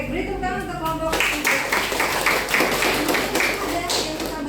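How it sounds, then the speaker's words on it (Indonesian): An audience in a university teaching session claps for a presenting group: a voice first, then a steady patter of many hands close by that fills the rest of the moment. "Oke, beri tepuk tangan untuk kelompok."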